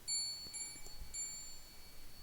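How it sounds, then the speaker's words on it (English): Spirit bell alert from an ITC Android app plays as a few soft, clear chimes spread over about two seconds, faint against a quiet background. "So that's called the spirit bell."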